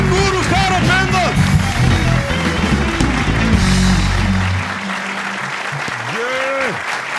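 A studio audience claps for the band, loud, dense and sustained, with music and a host's voice over the top. The clapping fades toward the end as the band plays on.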